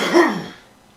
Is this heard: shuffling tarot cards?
no